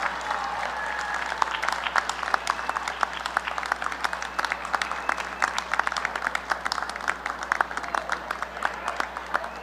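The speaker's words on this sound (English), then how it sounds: "give them a round of applause as a sign of gratitude for all that they have done for you" Graduates at a university convocation ceremony applaud their loved ones in the audience, a dense, steady crowd applause of many hands that is loud and fills the whole stretch with no talk over it.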